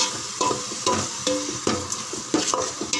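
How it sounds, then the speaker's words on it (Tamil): Tomatoes sautéing in a pan for mutton kuzhambu, a sizzling fry broken by repeated scraping stirs of a spoon, about every half second, close and moderately loud. "நல்லா வதங்கட்டும்."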